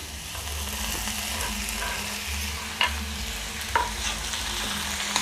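Radish pieces for chutney fry in a pan with a steady soft sizzle, joined by occasional sharp clinks of a stirring utensil against the pan, and nobody speaking.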